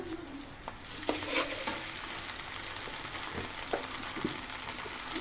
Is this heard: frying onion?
yes